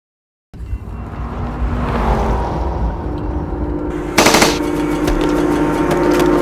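Rapid automatic gunfire from a film scene rattles loudly and continuously after a brief silence, with a sharper, brighter burst of shots cutting in partway through.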